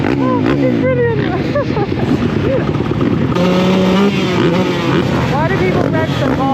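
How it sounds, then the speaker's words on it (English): Motocross motorcycles revving hard, engine pitch climbing and dropping repeatedly in loud, close bursts that overlap one another, with voices talking over the racket. "Why do people rev so hard in motocross?"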